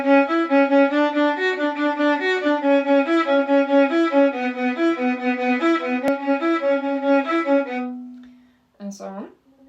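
Solo violin improvising a variation on a simple song with broken chords, steady flowing bowed notes moving through arpeggiated patterns, close and clear, ending on a held note followed by a short flourish.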